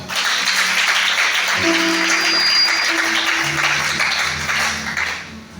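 A church congregation at a Sunday service in Gabon applauds in steady, loud, close clapping, with a tonal hum and other sounds underneath.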